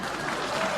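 Applause sound effect played on a livestream, a short burst of dense crowd clapping heard at close, even loudness.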